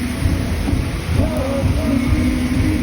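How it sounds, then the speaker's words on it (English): Heavy rain pours down in a steady, loud hiss with a deep rumbling undertone, brief faint tonal sounds drifting through in the middle. "the rain's actually slowing down this time"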